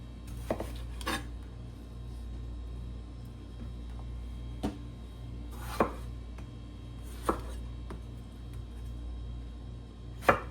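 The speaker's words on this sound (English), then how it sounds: "I'm gonna do 4 slices per roll today." A knife slices rolls into rounds on a cutting board, with about six sharp, separate chops spaced a second or more apart against a quiet kitchen background.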